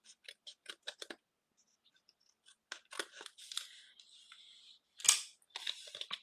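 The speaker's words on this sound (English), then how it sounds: "I'm just going to trim those off." Scissors trimming small overlapping paper bits from a handmade card, heard as a close series of quiet, crisp snips and short cuts with brief pauses between them and no talking.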